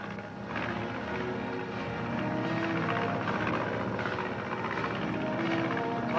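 A 1950s-era airplane drones overhead in a steady, continuous engine roar that holds fairly level and close throughout, with no talk over it.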